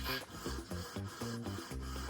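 Steady rubbing and rasping strokes sanding a maple guitar neck, close and continuous, with a repeating back-and-forth rhythm.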